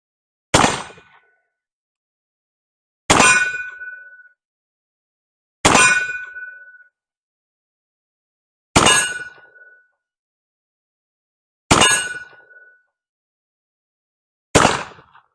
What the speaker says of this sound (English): let's have some fun and let's shoot some steel